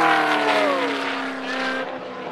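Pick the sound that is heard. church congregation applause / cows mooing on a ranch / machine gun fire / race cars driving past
race cars driving past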